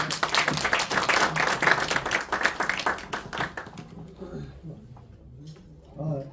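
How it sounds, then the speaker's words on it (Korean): An audience at a physical education teachers' AI research meeting applauds to welcome a speaker, brisk dense clapping that fades out after a few seconds, followed by a brief voice and a little shuffling. "다시 한번 박수로 맞이해 주십시오"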